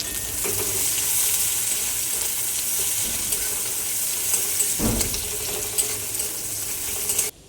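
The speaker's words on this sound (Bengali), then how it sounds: "এবার ওটা নাড়াতে থাকবে যতক্ষণ না পেঁয়াজটা লাল হয়ে আসে।" Chopped onion sizzles in hot oil in a home kitchen pan while being stirred, a continuous crackling hiss broken by scraping and clinking of the spatula, with one louder knock partway through.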